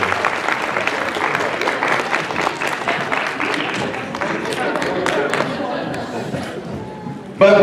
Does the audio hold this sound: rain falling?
no